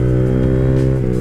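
A Honda Grom MSX 125 mini motorcycle with a full Yoshimura exhaust accelerates, its small engine giving a steady, loud, close buzzing drone with strong low harmonics that hold throughout, with no talk over it.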